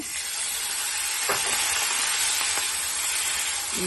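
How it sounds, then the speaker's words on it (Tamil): Small shallots fry in a pan of hot oil for a chicken gravy, giving a loud, continuous sizzling hiss with a couple of brief stirring scrapes and no talk. "சின்ன வெங்காயம் சேர்த்துக்கிறோங்க"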